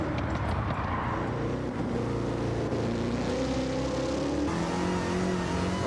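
The 800 hp Roadster Shop Road Rage Camaro accelerates hard, and its engine note climbs and shifts through gears. A continuous roar heard from inside the car, with no talk.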